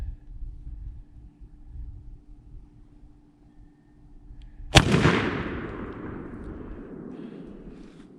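A single shotgun blast at a turkey during youth hunting season cracks out close and loud, then rolls away in a long outdoor echo over low wind and background rumble.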